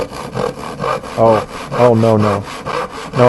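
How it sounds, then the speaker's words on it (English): A saw cuts through wood in a loud, rhythmic sound effect of repeated back-and-forth strokes, each rasping pass close and steady, with a brief voice heard at one point. "that sounds like a saw."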